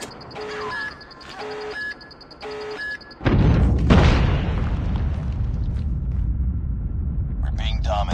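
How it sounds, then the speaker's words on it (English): A nuke explodes in a multiplayer shooter video game as a sudden deep, roaring blast that rumbles on for several seconds after a run of repeating beeps. Game voice lines are heard alongside it. "friendly nuke has been launched"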